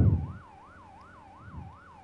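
A fire truck siren wails in a steady, rapid up-and-down cycle in the PS5 game Firefighting Simulator, fairly faint and continuous beneath low engine rumble.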